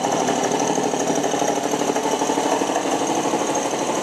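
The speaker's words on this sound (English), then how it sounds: "Another advantage of this belt-driven compressor," A belt-driven HVLP woodworking air compressor runs steadily and loudly, its dense mechanical chugging and hum holding an unbroken level throughout with no talk.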